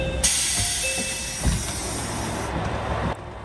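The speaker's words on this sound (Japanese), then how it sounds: "この列車は3番乗り場に到着します" A train pulls into platform 3 at Toyama Station. Steady rolling rumble and wheel noise carry a high, thin squeal and a thump partway through, then the sound drops abruptly as the train settles.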